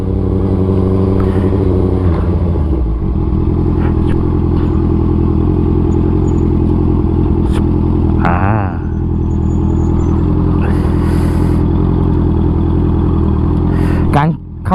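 A modified Honda CB650F motorcycle fitted with a quickshifter, its engine droning steadily and loud while riding, with a shift or rev change near eight seconds and a rider's voice talking over it throughout.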